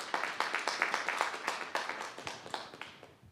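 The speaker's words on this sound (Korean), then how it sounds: "박수 부탁드립니다." A brief burst of audience applause in a student talent-show quiz hall, fairly light clapping that fades out toward the end, with no one speaking.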